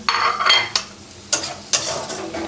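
Shrimp fry in mustard oil in a pan, a steady hiss of sizzling broken by several sharp scraping stirs of a utensil against the pan, close and fairly loud, no talking.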